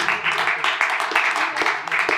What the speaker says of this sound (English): I'll take that applause.